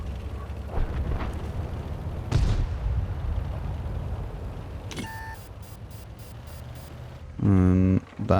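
A Tier 8 medium tank in World of Tanks fires its gun with a single booming blast early on, followed by electronic beeps and game tones while someone talks.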